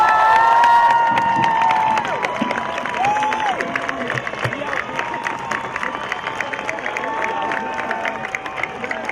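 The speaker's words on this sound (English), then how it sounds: "let's give an extra long round of applause for the class of" At a 2018 high school graduation ceremony, a large crowd cheers, whoops and applauds for the graduating class, with high shouts loud at first, then steady clapping and voices going on.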